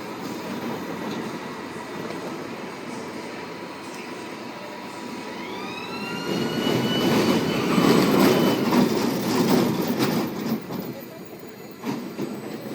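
A boardwalk amusement park roller coaster rumbles along its track, wheels squealing and clattering as the cars build to a louder, nearer pass before easing off again.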